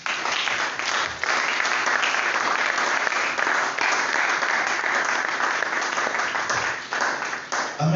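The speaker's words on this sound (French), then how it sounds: "acclame le Seigneur" A church congregation breaks into loud, sustained applause to acclaim the Lord. The clapping runs thick and continuous for several seconds, with a few voices rising faintly beneath it.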